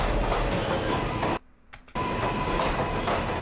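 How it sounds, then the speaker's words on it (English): A New York City subway 7 train running, a steady loud rumble with rail clatter that briefly drops away and then returns. "We hop on the 7 train."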